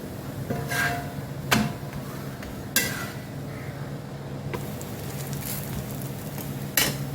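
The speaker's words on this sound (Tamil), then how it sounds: "நெய் ஊற்றணும் அதனால நெய் ஊற்றிருக்கிறேன்" Sorghum flour roti cooking in ghee on a griddle, giving a steady low sizzle with a few soft clinks and scrapes of a utensil, and no voices.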